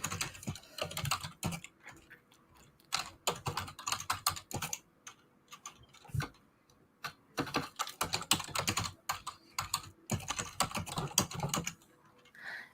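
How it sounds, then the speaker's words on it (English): Someone types on a computer keyboard in quick irregular bursts of clicking, close and fairly quiet, with brief pauses between runs of keystrokes and no talking. "And Chloe is typing."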